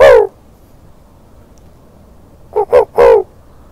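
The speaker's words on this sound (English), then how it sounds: "dog foxes bark to proclaim their territory and to attract a vixen" A dog fox barking during the mating season gives one call, then after a long silence a quick series of three hoarse, wavering barks, close and loud with no talk.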